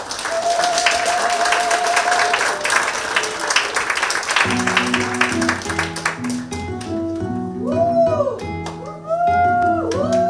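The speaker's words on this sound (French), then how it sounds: "Sous vos applaudissements, s'il vous plaît." An audience at the Monde en scène 2024 stage show applauds Fabienne's performance. Dense, steady clapping fills the first few seconds, then gives way to a sustained tonal, wavering sound.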